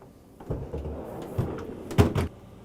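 A refrigerator door closes with a few soft thumps and knocks, the loudest one near the end, heard close by in a quiet room.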